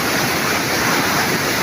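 Floodwater from the mountains in Laos rushes past in a loud, constant roar of churning water, close and continuous, with no talking.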